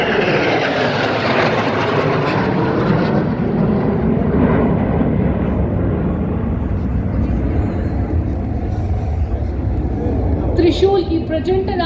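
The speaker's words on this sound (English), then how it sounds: "keep your eyes on the aircraft as they pull up outwards as they reach the saluting day for the Trishul maneuver" Military jets in a Republic Day parade flypast rehearsal roar loudly overhead in a steady wash of engine noise, mixed with continuous announcer commentary.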